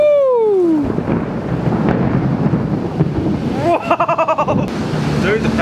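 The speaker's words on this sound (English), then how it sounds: "Dude, that thunder's crazy" Thunder from a heavy storm rolls in long, deep rumbles that fill the background, while people talk nearby.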